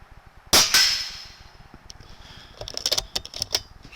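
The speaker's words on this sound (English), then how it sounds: "So I'm gonna go ahead with my first shot here" A rifle shot fired through a night vision scope cracks sharply once, followed by a short ringing tail and a flurry of faint mechanical clicks.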